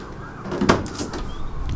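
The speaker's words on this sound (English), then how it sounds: "What I'll do is we'll open up this door here." A car door opens with a short mechanical click and creak, followed by a brief squeaky scrape, heard close in a quiet setting.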